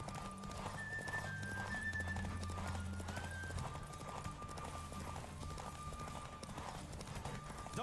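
Horse hooves clip-clopping at a steady gallop in the video game The Witcher III, an even, continuous rhythm that runs the whole way through over a background music bed with a brief whinny.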